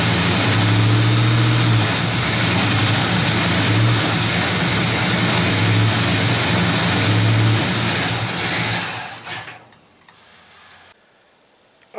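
A car engine fitted with a Rochester 2-barrel carburetor with a faulty accelerator pump runs loud and rough as gas is given, then bogs and stalls near the end, dropping into near silence.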